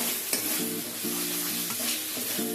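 Spice paste for Lahori mutton korma frying and being stirred in a pan, a dense close sizzle with repeated scraping strokes of a spoon and a brief clink, no voices.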